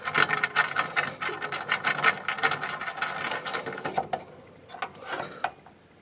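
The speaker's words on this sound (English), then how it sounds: "all we do then, screw the handle back in" A handle being screwed back into a Titan thickness planer gives a steady run of close mechanical clicking and ratcheting that eases off toward the end.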